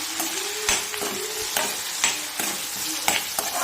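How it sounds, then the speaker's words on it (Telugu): Onions frying in a pan with crushed cloves, pepper, cinnamon and cardamom, making a loud steady sizzle broken by sharp stirring clatters every half second or so. "ఆనియన్స్ కొంచెం వేగినాయి కదా"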